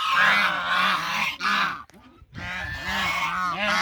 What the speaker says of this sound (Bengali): এই যে ন্যাচারাল ডাক শুনতে পাচ্ছেন হাঁসের।